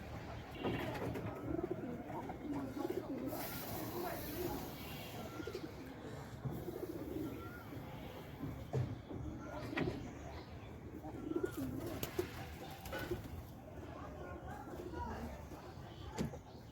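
Soft cooing from a sick pigeon being given a breast injection repeats in the background while a person talks nearby, with occasional light handling noises.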